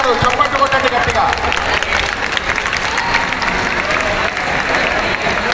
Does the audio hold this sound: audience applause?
yes